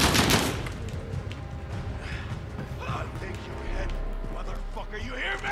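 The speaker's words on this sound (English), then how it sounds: "The gunshots, of course." Gunfire in the Call of Duty Modern Warfare video game, a loud burst of shots at the start followed by scattered rattling fire and clanks under ongoing voices and battle noise.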